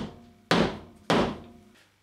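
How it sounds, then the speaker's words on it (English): Hammer tapping a grippet plasterboard fixing into a wall, two loud close thuds about half a second apart, each with a short ringing decay, alone without talk. "we just need to give that a tap with the hammer"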